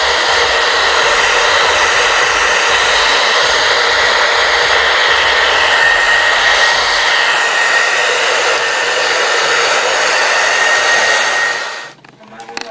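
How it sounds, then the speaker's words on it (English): Blow dryer set to cool on high, blowing over a wig cap: a loud, continuous whooshing roar that holds steady throughout and cuts off near the end. "Have the blow dryer on cool, on high."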